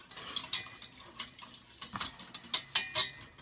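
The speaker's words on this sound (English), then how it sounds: "I am using a whisk because it will break down the lumps in it better than just a spoon." A whisk clinks against a bowl while a vegan quiche mixture is beaten to break down lumps, giving irregular metallic taps and scrapes that grow brighter and more frequent near the end.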